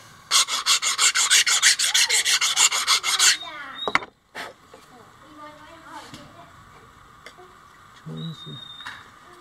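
Rapid rhythmic strokes of sandpaper rasp against a handmade wooden fan blade as it is thinned, about a dozen quick scrubbing passes up close, then a sharp knock and quieter handling sounds follow.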